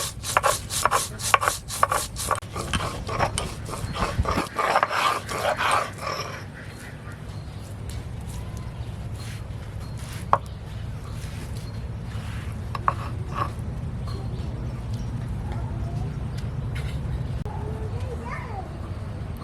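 Cumin and coriander are ground on a grinding stone, with quick rhythmic rasping strokes at first that settle into slower, softer rubbing. A voice speaks at times over the scraping.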